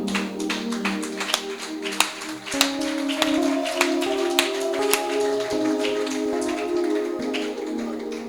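Hands clap at a church prayer service as the congregation praises the Lord, with sharp, scattered claps over a steady sustained musical tone.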